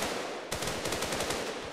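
Rapid gunfire from a burst of shots fired at a bandit in the zombie survival game Running With the Dead, a loud sudden volley of about a dozen cracks with no talking.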